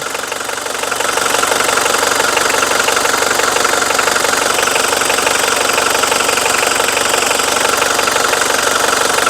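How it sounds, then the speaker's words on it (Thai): A Mitsubishi Strada 2.5 diesel pickup engine idles loudly and close, with a steady rattling knock that settles into a constant rhythm after a brief start. "สตาร์ทเครื่องยนต์แล้วนะครับ"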